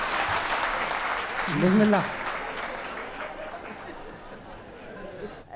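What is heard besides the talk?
audience applause at a ghazal recitation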